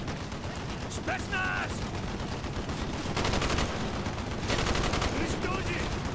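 Gunfire from the Call of Duty Black Ops campaign plays as dense, sustained bursts of automatic fire with a busy game soundscape, steady and loud throughout, with brief voice chatter mixed in.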